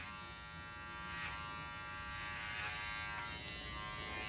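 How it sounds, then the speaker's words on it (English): Electric hair clippers held open cutting a short bob from the top down, giving off a steady close buzzing hum throughout with faint shifts as the blades pass through the hair. "We're going to come down real low and just shave with my clippers open."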